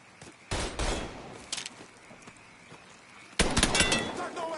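Gunfire in the video game Mafia 3: a loud burst of rapid shots, scattered quieter shots, then another sustained volley near the end, heard over game noise.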